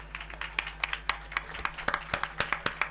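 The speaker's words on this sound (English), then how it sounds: "A big round of applause for all the beautiful, bright women here today." Applause for the women at an inauguration event, heard as a sparse string of distinct individual claps in an even rhythm, fairly close, over a low steady hum.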